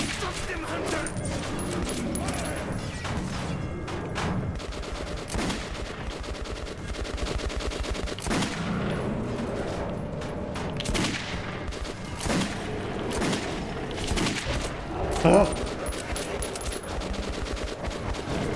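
Gunfire in the video game Metro 2033 Redux, bursts of shots cracking over a dense, busy game soundscape, with a person talking over it throughout.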